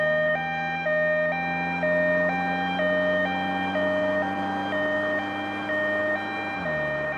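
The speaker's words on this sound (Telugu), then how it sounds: "మన వెనక పోలీస్ జిప్ కదా రావాల్సింది అంబులెన్స్ వస్తుంది." An ambulance siren wails loud and steady, alternating between two pitches in a regular hi-lo rhythm, then drops slightly in pitch near the end as it passes by on the road.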